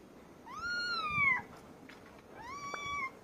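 A cat meows twice, close and clear, each a drawn-out call of about a second separated by a short pause, with no talking.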